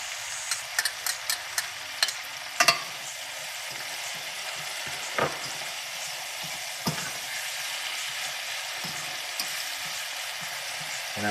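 Cabbage and seasoning cook in a pot for Jamaican steamed cabbage, a constant soft sizzle with a string of light utensil taps and knocks near the start and a few scattered clicks later. No voices.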